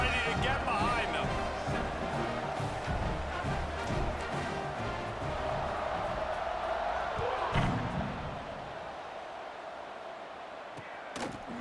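A large stadium crowd roars in EA Sports College Football 26, a broad sustained cheer under continuous commentary that eases off toward the end.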